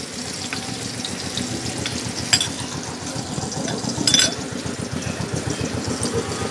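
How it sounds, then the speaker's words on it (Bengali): Chopped tomato and vegetables frying in a pan with salt, turmeric and cumin for a Bengali mixed vegetable dal, a steady loud sizzle with close stirring scrapes and a couple of sharper spatters. "এবার ভালো করে এগুলোকে ভেজে নেব।"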